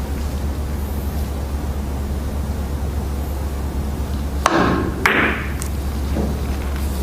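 A billiard cue strikes the ball for a double cushion shot, followed by a couple of sharp ball clicks and knocks against the table, mid-distance, over a steady room hum.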